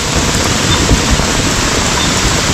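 Heavy rain falls steadily, a loud, dense hiss of drops hitting surfaces close by, with no pauses and no voices.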